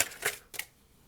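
Tarot cards being shuffled and drawn, two quick papery riffles close by, then silence.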